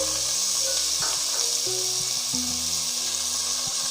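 Onions, shallots and garlic sauté in a spoonful of ghee in a kadai, giving a steady close sizzle with faint clinks and stirring underneath.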